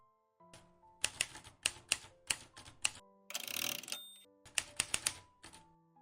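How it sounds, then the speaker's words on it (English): Typewriter click effects sound as sharp, evenly spaced key strikes in short bursts, broken midway by a brief ratcheting carriage return, then more crisp clicks close up. "dropping in individual typewriter click sound effects in each keyframe"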